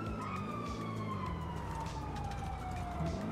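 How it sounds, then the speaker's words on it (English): Police sirens wailing in GTA 5, a steady descending siren tone running loud through the whole stretch over a busy bed of traffic and engine rumble. "I hear sirens everywhere."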